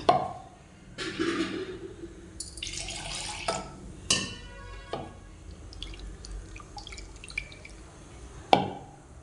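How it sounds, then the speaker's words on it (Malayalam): Hot oil tempered with heated chilli powder poured into a pot of curry, heard as a string of irregular splashes, clinks and brief sizzling bursts, some sharp and close, with quieter gaps between. "മുളക് പൊടി ചൂടാക്കി ഇത് അടുപ്പിലോട്ട് ഒഴിക്കുകയാണ്"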